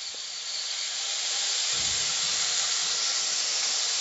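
Cut garlic and ginger frying in a hot pan for a chicken dish, giving a loud, steady, close sizzle that stays even throughout with no speech.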